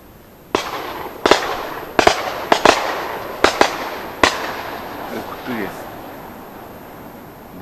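A series of sharp shotgun blasts at ducks cracks out one after another, about nine shots at uneven intervals, echoing across open ground before fading to quiet.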